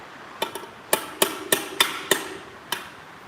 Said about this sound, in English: We've got the hammer out.